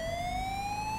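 An emergency siren from an ambulance being escorted in the LSPDFR police mod for a video game, one loud continuous tone rising slowly in pitch with rich harmonics over a low engine rumble.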